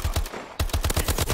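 Rapid bursts of SMG fire in Call of Duty: Advanced Warfare, fired from dual-wielded weapons, close and loud, with a short pause before a second, longer rhythmic burst.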